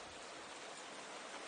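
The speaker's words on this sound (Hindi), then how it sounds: "छतरी चाहिए, बारिश हो रही है।" Cartoon rain falls as a steady, dense, faint hiss, continuous and even throughout the short stretch, with no voices over it.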